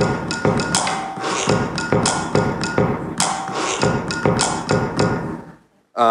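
Rapid percussive tapping and knocking from turning the knob on a sewing machine, a dense, steady run of close, loud clicks and thuds that stops abruptly near the end.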